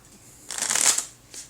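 Close up, a deck of playing cards is riffle-shuffled in a single crisp, rapid burst lasting about half a second, followed by a faint soft snap as the cards settle. No one speaks.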